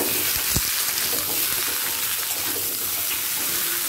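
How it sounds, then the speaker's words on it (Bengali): Potatoes and pointed gourd frying lightly in a pan with a steady, close sizzle and crackle throughout, with no talking. "আলুটাও পটলের সাথে হালকা করে ভাজা হয়ে গেছে"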